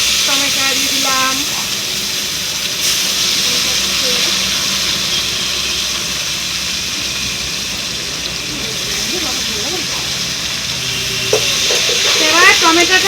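Tomato fries in a pan for a home-cooked rui fish curry meal, a steady moderate sizzle with stirring noises throughout, a few faint tonal squeaks near the start and end.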